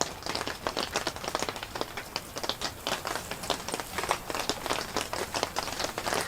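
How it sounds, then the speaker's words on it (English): Rain easing off on the roof of a trike, a dense patter of drops tapping the surface steadily and fairly quietly throughout, with no voices. "The rain started easing off a bit here. You can probably hear that on the roof."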